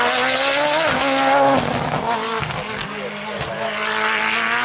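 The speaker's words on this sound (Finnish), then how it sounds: "Ei millään tyhjäkäyntikierroksella tuommoinen moottori pelaa." The zero car at an asphalt sprint rally, whose engine will not settle at idle, revs loudly and close by in repeated surging blips and drops, with faint commentator talk mixed in.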